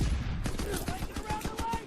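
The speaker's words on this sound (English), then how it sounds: "Give suppressing fire." Suppressing gunfire in the video game Call of Duty WWII, rapid loud bursts of automatic fire mixed with game noise, steady and dense over a brief moment.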